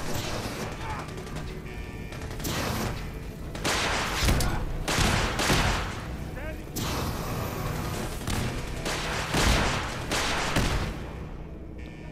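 Rocket launcher fire in Fallout 4 survival mode, mixed into a dense, continuous barrage of loud blasts, mechanical clatter and gunfire with repeated bursts and little pause; voices are faintly present underneath.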